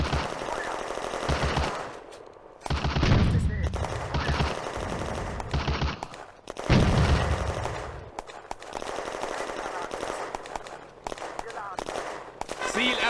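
Tank cannon and machine gun fire in the Firefight video game, with bursts of rapid automatic rattling and heavy blasts around two large booms, while voices call out in German amid the battle.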